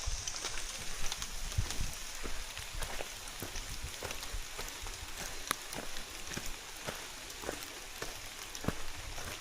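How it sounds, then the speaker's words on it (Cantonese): Rain falling on a mountain trail on Tai Mo Shan, Hong Kong: a steady broadband patter with scattered sharper drops hitting nearby surfaces, fairly soft and with no speech. "又係開始落雨啦，而家。"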